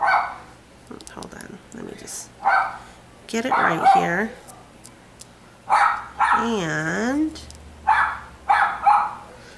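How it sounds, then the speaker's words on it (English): A dog barks outside, a series of sharp yips and woofs with a whimpering, yowling stretch in the middle, fairly close, heard under a person talking indoors. "You can hear my dog out there barking"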